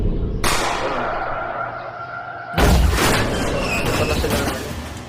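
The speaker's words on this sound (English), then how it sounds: "witnesses around the area heard multiple gunshots coming from the inside of the car" Several gunshots go off inside a car in a robbery shooting. Two sharp, loud bursts about two seconds apart each trail off into a noisy decay.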